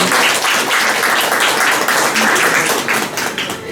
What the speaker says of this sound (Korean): 감사의 마음으로 모두 큰 박수 부탁드립니다